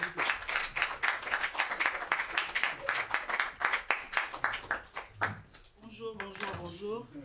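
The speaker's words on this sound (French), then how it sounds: "Tonnerre d'applaudissements." Scattered hand claps from an audience at a Cheikh Anta Diop Day 2019 event, welcoming Madame Victorine Mbengue. The claps are close, sharp and fairly steady, then thin out as a voice begins talking near the end.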